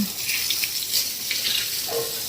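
Water pours and splashes steadily, with a continuous hissy rush like a tap running into a bucket or sink, close by and without talk.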